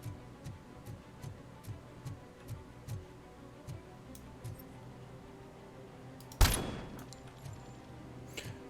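Single sniper rifle shot in the video game Robocop: Rogue City, one sharp loud crack with a short decaying tail, after a run of faint, evenly spaced ticking.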